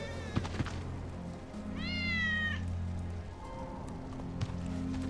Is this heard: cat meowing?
yes